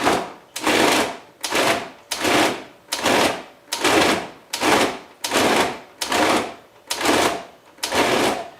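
Food processor pulsing ground, spiced luncheon meat, about ten evenly spaced whirring bursts with brief silences between, close and loud with no talking.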